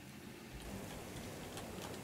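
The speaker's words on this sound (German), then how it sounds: "mittlerweile ist der Regen immer so laut" Heavy rain in the medieval survival game Medieval Dynasty pours down as a loud, steady hiss with faint droplet ticks throughout.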